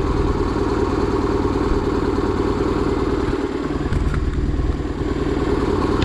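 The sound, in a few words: BMW R1100GS motorcycle engine idling while warming up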